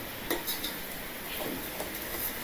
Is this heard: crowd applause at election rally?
no